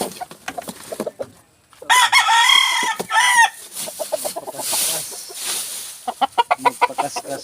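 A gamecock (fighting rooster) crows loudly and nearby, preceded and followed by clucking and short bursts of chicken calls.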